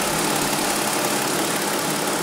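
A 2020 Lexus RX engine idles with a steady, even hum and a faint mechanical tick, heard close up and alone, with no talking.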